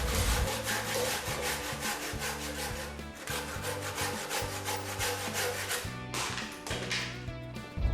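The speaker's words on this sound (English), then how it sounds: "Finally, it is hard square timber cutting." A heavy-duty H-333 handsaw cuts through hard square hardwood timber, a steady back-and-forth rasping of repeated close, loud strokes running throughout without pause.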